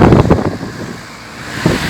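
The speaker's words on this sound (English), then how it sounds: "you can hear how windy and cold it is" Wind gusts buffet the microphone outdoors on a cold day, with loud rumbling bursts at the start and again near the end and a calmer stretch between them.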